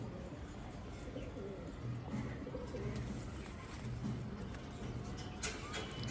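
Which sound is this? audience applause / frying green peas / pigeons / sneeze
pigeons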